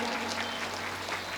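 Crowd applause at a political rally in Madhya Pradesh, a dense, steady wash of clapping filling the whole moment at moderate loudness, with no voices standing out above it.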